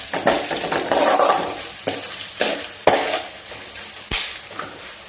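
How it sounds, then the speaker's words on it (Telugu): Coriander seeds being stirred in a pan while making a tamarind and onion chutney, giving a continuous scraping, rattling sizzle broken by a few sharp clinks of a spoon against the pan, close and fairly loud with no talk. "రెండు స్పూన్లు ధనియాలు వేసేసుకుని ఒకసారి కలుపుకుందాం"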